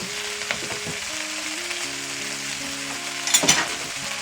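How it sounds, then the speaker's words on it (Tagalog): Eggplant frying in a pan alongside milkfish for a coconut milk stew gives a steady, close sizzle throughout, with a brief louder burst near the end and no talking. "Lagay din yung talong."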